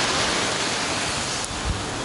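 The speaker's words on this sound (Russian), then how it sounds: "Сейчас волны немножко поутихли." Sea waves at Mae Nam beach on Samui, somewhat calmer than usual, wash in as a dense, constant broadband roar of surf close to the microphone, with no voices.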